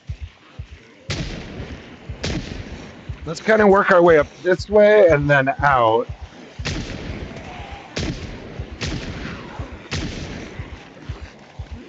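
Sharp gunshots in a zombie survival video game, several spaced single shots before and after a stretch of someone talking, with the shots continuing under and between his speech.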